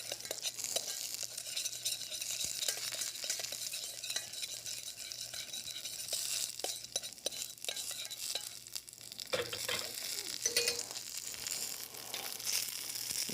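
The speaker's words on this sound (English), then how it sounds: "Use our spoon here, give that a nice stir." A spoon stirs roasting Brussels sprouts with extra virgin olive oil, making a continuous sizzle broken by scraping and clinking against the pan, close and moderately quiet.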